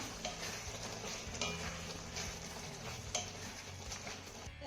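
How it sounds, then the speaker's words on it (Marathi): A spatula scrapes and stirs a steamed onion curry in a pan, making soft, close scuffs at irregular moments over a faint low sizzle and a quiet background hum, with no voices. "ही भाजी आपण एकदा तळापासून हलवून घेऊया"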